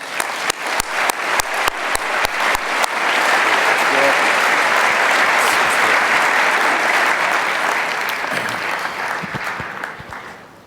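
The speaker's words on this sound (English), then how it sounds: "let's welcome David with a round of applause" An audience at a science lecture claps a welcome for the speaker: scattered claps at first, then swelling into a loud, dense roar of applause that holds steady before gradually tapering off.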